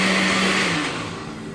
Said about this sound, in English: So I'm gonna go ahead and let this thing blend up, just like this.